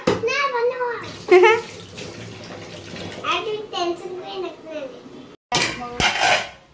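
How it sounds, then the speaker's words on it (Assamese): Dishes being washed by hand with splashing water and clinking pots and plates, heard close under the ongoing chatter of an adult and a child. "এয়া বাইদেউ আমাৰ বাচন ধুই আছে"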